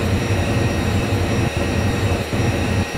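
Indore Pune Express in the MSTS train simulator, hauled by a WAP5 electric locomotive, rolls along with a steady loud rumble and rail clatter, with faint periodic wheel thumps over track joints.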